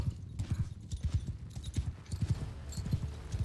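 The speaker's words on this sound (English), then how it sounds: "there's their horses. Cresting the hill there." Horses' hooves pound in a steady galloping clip-clop across open ground in the medieval battle game Bannerlord, a fairly close, continuous rhythmic drumming.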